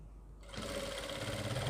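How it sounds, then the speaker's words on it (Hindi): A sewing machine stitches fabric for a skirt or palazzo, starting after a brief quiet moment and then running as a steady, close, continuous whirring hum until the end. "और ये सिलाई लगाएंगे।"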